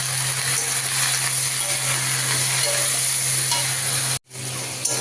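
Shapla (water lily stems) curry with turmeric and salt fries in a pan, giving a close, continuous sizzle with faint stirring. A brief silent gap breaks it near the end before it resumes.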